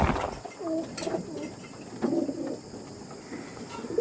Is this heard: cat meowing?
no